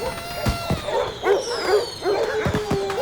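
Several dogs at a lively dog party bark, yip and whimper in quick overlapping bursts, close and moderately loud, forming a busy cluttered chorus.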